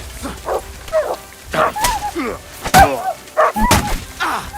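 A dog in Kingdom Come Deliverance 2 barks in repeated sharp, close bursts, mixed with yips and dull thuds from a scuffle, at an uneven, agitated rhythm.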